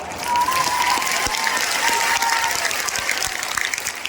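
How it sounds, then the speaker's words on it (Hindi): Audience applause at a spiritual festival in Ayodhya, a dense, even wash of many hands clapping throughout, with a few sharper claps standing out near the end. "और आपकी ताली इतनी धीरे बज रही है कि आनंद नहीं आ रहा।"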